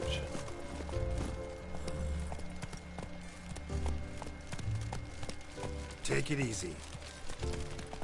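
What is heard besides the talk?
horse Roach galloping in video game The Witcher 3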